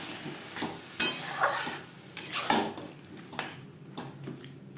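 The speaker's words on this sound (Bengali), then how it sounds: "মশলার সাথে আলু বেশ ভালো করে মিক্স করে দেবো" Potatoes being stirred with spices in a pan, a few distinct clinks and scrapes of a utensil against metal with a light sizzle between them, close and fairly loud, no talk.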